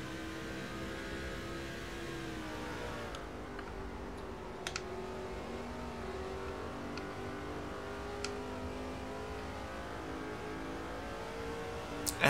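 Race car engines in the video game NASCAR 05, a steady droning hum with slowly shifting pitch running throughout at low level, with scattered faint clicks.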